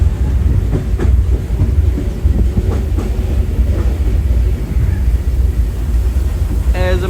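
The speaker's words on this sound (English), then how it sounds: "We're gonna stay on the train, make a full circle." Disneyland Railroad train riding the tracks around the park, a steady loud low rumble of wheels on rails with faint rhythmic clacks throughout, no talking.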